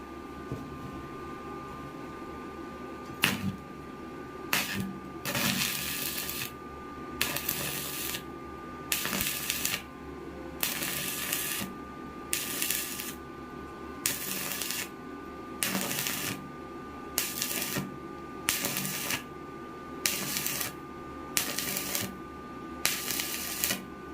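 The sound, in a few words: arc welding, drop welding with stops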